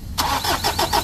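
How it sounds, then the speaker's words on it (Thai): A Mazda BT-50 pickup engine with an ECU fault cranks and catches in a short burst, giving a few quick pulsing turns over about a second at moderate distance. "ปกติเขาจะสตาร์ทขึ้นมาติดแล้วก็ดับเองนะฮะ"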